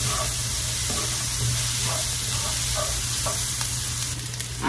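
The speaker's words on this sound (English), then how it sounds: "And you're gonna let this saute for a few minutes." Food sautés in a pan with a steady, close sizzle and soft stirring scrapes, fairly loud and continuous, no voices.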